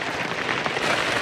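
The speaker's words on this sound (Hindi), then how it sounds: "बारिश इतनी तेज़ हो गई, मैंने सोचा रुक लूँ थोड़ी देर यहाँ पे" Heavy rain pours down on a trek in Himachal's Tirthan Valley near Jibhi, a dense, steady hiss of drops hitting surfaces close by with no one speaking.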